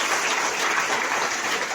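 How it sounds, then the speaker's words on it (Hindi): A room of attendees at a business leaders' event claps for a speaker, a short burst of steady, fairly loud applause with no voices over it. "प्रभात सर के लिए जरा जोरदार ताली हो"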